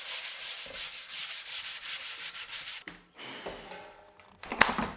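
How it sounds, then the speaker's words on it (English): Close, steady back-and-forth rasping of wood being hand sanded between coats of polyurethane, a rhythmic scrubbing that stops partway, followed by a few soft knocks and handling sounds. "I'm finally able to actually sand it and put the second coat of polyurethane on it"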